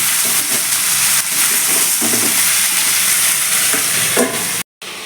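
Drumstick vegetables with turmeric and green chili sizzle and fry steadily in a covered wok, a continuous close hiss with soft bubbling throughout and no talking.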